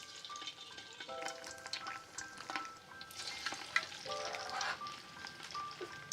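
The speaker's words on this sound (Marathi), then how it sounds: "अशा प्रकारे हे ना वडे फ्राय होत आहेत" Vadas deep frying in hot oil, a soft continuous sizzle with light crackles and bubbling, faint and close, with some clinks of utensils in the background.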